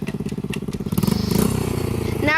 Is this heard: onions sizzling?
no